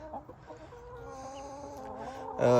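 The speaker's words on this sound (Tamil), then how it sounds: "இதுதான் இந்த ஹல்பர்ட் கோழின்னு சொல்கிறது" Chickens cluck softly nearby with short, murmuring calls, ending in a louder squawk.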